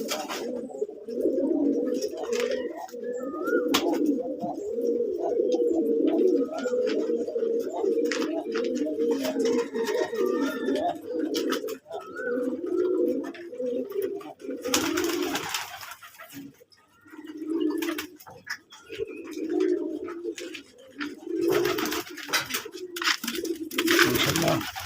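Domestic desi pigeons on a home farm coo in low, throaty, overlapping phrases, steady at first and then in broken bursts, with rustling and brief noisy interruptions.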